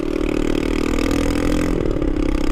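A motorcycle with its exhaust baffle removed, running loud and close, with a raw, throaty exhaust note that holds steady with slight rises in revs.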